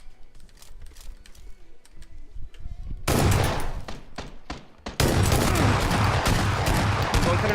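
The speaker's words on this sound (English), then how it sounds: "Are they shooting at you?" Gunfire in the video game PUBG: scattered distant shots at first, then loud dense bursts of rapid automatic fire filling the sound, with excited voices faintly under it.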